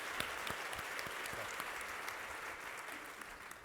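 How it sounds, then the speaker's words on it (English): A conference audience applauds a panel at a general session, a continuous wash of many hands clapping with a few sharper claps standing out near the start, fairly quiet overall and tapering slightly at the end. "How about a round of applause for this panel?"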